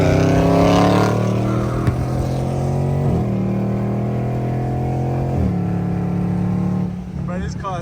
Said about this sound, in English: Bro, this car is so loud,